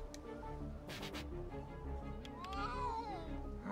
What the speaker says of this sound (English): That's my cat sound.